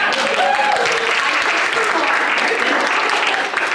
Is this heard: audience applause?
yes